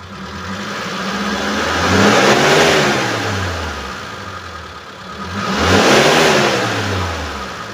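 A 2016 Mitsubishi T120SS pickup engine revs up twice from idle toward 3,000–4,000 RPM, each rise swelling to a loud roar, holding briefly, then settling back down, recorded up close.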